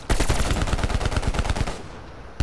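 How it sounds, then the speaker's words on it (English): Rapid gunfire from a Call of Duty zombies match, a dense run of loud, close shots crackling steadily for about two seconds, then briefly stopping before one more burst. "I'm going to get out and help you assist shooting him"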